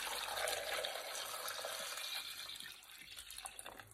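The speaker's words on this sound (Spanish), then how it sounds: "Y vamos a ponerle el caldo." Broth poured into a pot sounds as a continuous, fairly quiet liquid rush that holds steady and tapers slightly toward the end, with no talking.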